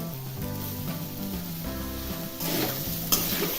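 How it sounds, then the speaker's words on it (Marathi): Sago pearls for sabudana khichdi are stirred in a hot pan, a close, steady sizzle and scraping that swells louder and brighter partway through, with a sharp clink near the end, over a low tonal hum. "त्यामध्ये मी शाबू टाकणार आहे"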